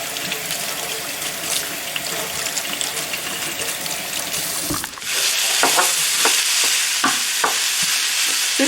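Ground turkey sizzles in a pan while a utensil breaks it apart, first under a steady hiss, then with brighter frying crackle and sharp scraping clicks from about five seconds on, close and fairly loud with no talk.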